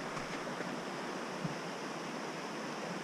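A clear river flowing after a historic winter storm, with a steady broadband rush of water, constant and fairly faint, heard alone.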